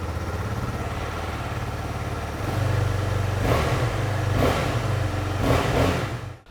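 The exhaust of a KTM Adventure 250 motorcycle idles steadily, then revs up sharply three times in quick succession. The sound is loud and close, with no talking.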